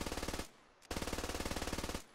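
Video game Squad, a rifle fired from the hip in full-auto: two close, loud bursts of rapid evenly spaced shots separated by a brief pause, with no talking.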